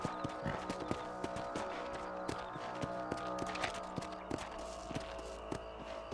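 Horse hooves clip-clop at a steady walking rhythm in the Western video game Red Dead Redemption, crisp repeated hoof strikes over a low game background with no talking.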